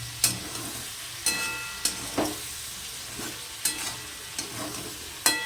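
Flat beans sizzle steadily in a pan while a utensil scrapes and stirs them in repeated sharp strokes, close and clear, with no talking.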